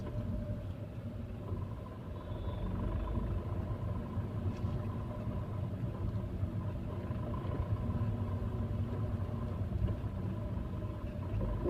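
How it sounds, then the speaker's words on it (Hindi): A Tata Tigor car creeps along in first gear on the clutch, its engine giving a low, steady hum and rumble from inside the cabin, fairly quiet throughout. "सिर्फ क्लच के भरोसे ही मैं अभी चला रही हूँ, थोड़े करके रिलीज करके।"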